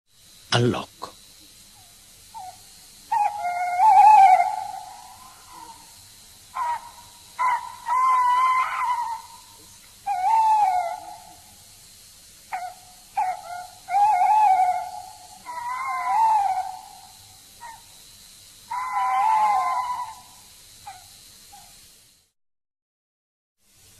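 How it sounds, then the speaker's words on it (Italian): A tawny owl calls in a series of about six wavering, hollow hoots, each drawn out and spaced by short pauses, heard clearly over a faint steady hiss. "Allocco."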